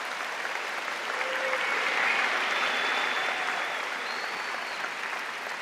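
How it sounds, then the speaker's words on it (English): Applause from a large audience at a university convocation ceremony, a steady wash of many hands clapping that swells slightly in the middle and continues evenly, with no speech over it. "Can you all join me in a round of applause for all of you who are here today?"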